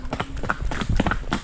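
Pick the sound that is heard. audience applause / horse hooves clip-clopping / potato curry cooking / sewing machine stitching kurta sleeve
horse hooves clip-clopping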